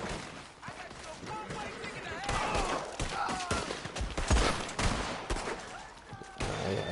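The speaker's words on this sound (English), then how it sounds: "I accidentally shoot that dude." Gunfire in a PS4 shooter game, a string of sharp bursts and rattling shots of varying loudness, with talk over it.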